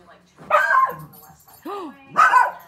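A dog at home giving a few short barks and yips, close and fairly loud, with a brief whimpering whine between them.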